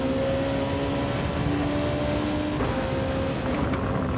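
A McLaren race car engine in Gran Turismo 7 drones at a steady pitch with a sustained tonal hum, a continuous mid-level whine that holds throughout with little change.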